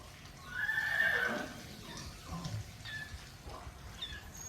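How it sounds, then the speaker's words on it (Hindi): A horse gives one clear whinny early on, fairly close, followed by quieter snorts and faint background noise with no talk. "इधर हमारा घोड़ा है"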